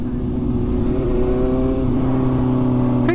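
A motorbike engine revs hard and loud up close, its steady roaring drone holding high throughout with a slight pitch rise near the end.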